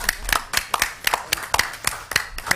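Audience at a community meeting giving applause, though only a few sparse, rhythmic claps come through, close and fairly clear, with little else around them.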